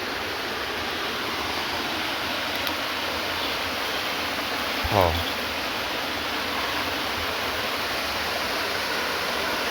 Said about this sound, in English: This beautiful waterfall here.